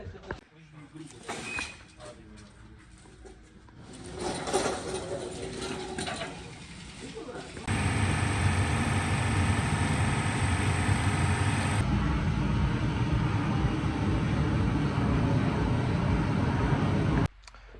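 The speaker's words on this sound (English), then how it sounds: "we have to put them through a sand machine" A sand-blasting machine cleans soaked brake parts from a budget car with a steady, loud hiss that runs unbroken for about ten seconds after a stretch of clattering handling sounds and talk.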